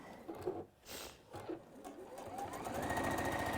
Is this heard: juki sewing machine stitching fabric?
yes